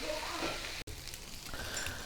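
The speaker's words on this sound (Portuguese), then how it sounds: "Essas carnes estão refogando aqui" Meat sautés in a pan, giving a steady, close, crackling sizzle that fills the whole stretch, with a very brief break partway through.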